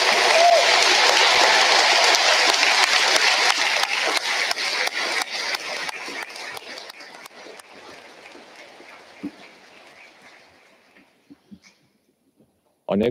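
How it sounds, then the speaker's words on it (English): Audience applause at a debutante presentation ball, a dense sustained clapping that fades steadily over several seconds into scattered claps and near silence, then a sudden loud sound at the very end. "a round of applause for our presentees"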